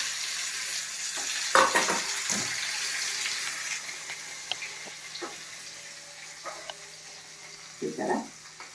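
Continuous hiss of a spice tempering sizzling in hot oil for a green chutney, loudest at first and slowly fading, with a few clinks and brief stirring sounds.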